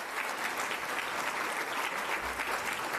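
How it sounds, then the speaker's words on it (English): Business hall of fame audience giving a round of applause, a thick continuous roar of clapping from a large crowd, steady and fairly loud from start to finish. "She deserves another round of applause."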